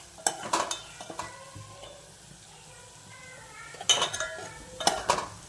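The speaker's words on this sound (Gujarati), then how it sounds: "જુઓ મરચા વઘારાઈ ગયા છે" Chillies tempering in hot oil for dal-rice: a soft sizzle with sharp clinks of a spoon against the pan in short bursts at the start and toward the end, close and fairly quiet.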